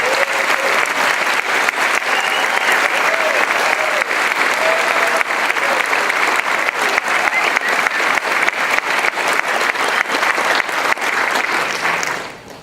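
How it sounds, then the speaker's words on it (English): A graduation ceremony audience gives the undergraduate class a final round of applause, dense even clapping that holds steady and loud for about twelve seconds before fading out at the end. "let's give our graduates one last round of applause."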